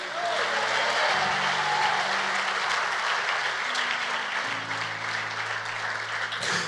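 A church congregation applauding during a Pentecostal-style sermon, steady dense clapping filling the space throughout, with sustained tones beneath from instruments or voices.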